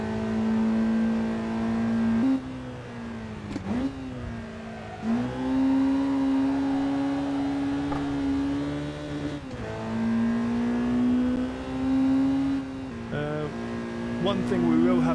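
A car's engine drones steadily on a flying lap of a race track, with ABS but no traction control, rising and falling in pitch through gear changes and throttle lifts while a voice talks over it.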